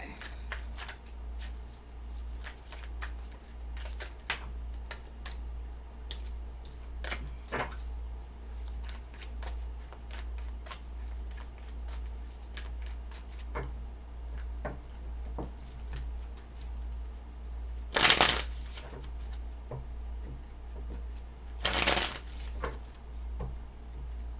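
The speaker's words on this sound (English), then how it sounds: "Last shuffle." Tarot cards are shuffled and riffled with soft ticking and flicking, two louder riffles standing out, over a low steady hum.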